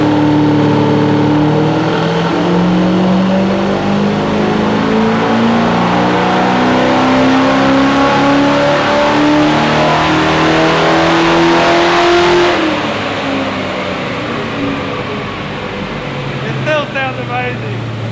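A car engine on a dyno, running a carburettor versus Sniper EFI setup, roars at sustained high revs with a rising pitch that climbs then drops off near the end, loud and close, a brief voice briefly heard over it.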